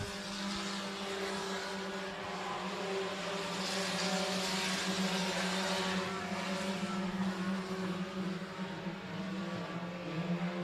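Sprint cars lapping a dirt oval at Crawford County Speedway during a heat race, a steady droning engine roar held at constant level throughout, heard from a distance without any voices.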